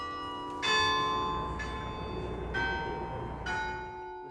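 Church bells ring out the hymn Abide With Me, four resonant strikes about a second apart, each leaving a long ringing decay over a soft background hum, heard alone at moderate distance.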